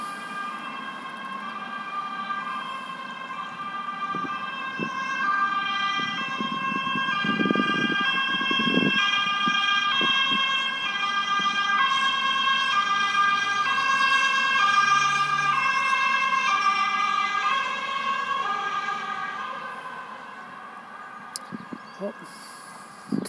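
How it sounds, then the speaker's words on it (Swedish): An ambulance siren wails steadily in Stockholm, swelling as it draws near and fading as it passes, with road noise and some talk underneath. "Ambulans."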